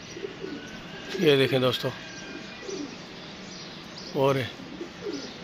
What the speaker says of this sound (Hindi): तो बाकी बड़े ढीठ हड्डी के कबूतर हैं